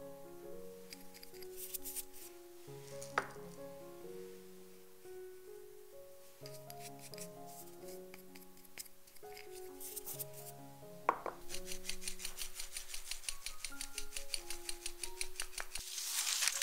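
Flour, baking soda and cornstarch are sifted together, giving repeated faint scratchy rubbing strokes in bursts that grow busier toward the end, under soft background music.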